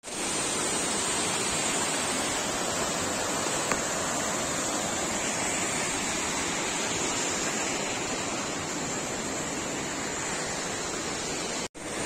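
A mountain stream rushes past the riverbank on the route to Gosaikunda, a loud, steady, hissing flow of water that keeps going without pause and breaks off abruptly near the end, with no voices.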